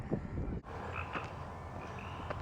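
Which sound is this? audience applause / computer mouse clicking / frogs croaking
frogs croaking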